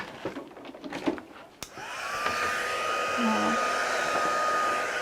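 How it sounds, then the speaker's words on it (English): A heat gun starts with a click and then blows hot air onto a craft stamp in a steady, close, loud whir, after brief handling noises and a single spoken word. "let's plug in our heat gun"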